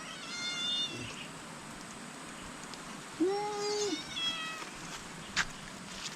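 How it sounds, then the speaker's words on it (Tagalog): A fat, well-fed pet cat meows once clearly in a drawn-out call, with fainter mewing earlier, outdoors amid soft background noise and no talking. "Ang ating alagang pusa po oh."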